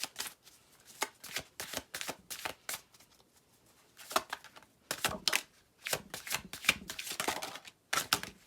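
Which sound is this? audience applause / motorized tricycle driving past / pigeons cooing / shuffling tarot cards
shuffling tarot cards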